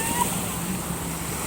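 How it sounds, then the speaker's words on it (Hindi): Sea surf rolling onto the beach at Ajman on a calm morning with low waves, a steady broadband wash with wind noise over the microphone, continuous and moderately loud without distinct breaks. "आज समंदर में मतलब इतनी हाई वेव्स नहीं थी"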